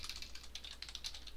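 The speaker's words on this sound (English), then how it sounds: "My keyboard is loud." Loud computer keyboard clattering with rapid, uneven keystrokes in a continuous burst, close and fairly quiet overall, with no speech.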